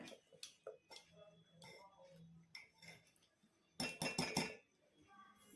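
Cake batter with baking powder is mixed by hand in a bowl, with scattered clinks and scrapes of a utensil against the bowl and a brief burst of rapid clattering strokes near the end.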